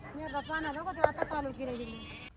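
A sheep bleats close by in a long, wavering call that trails off, loud and clear with no talk over it.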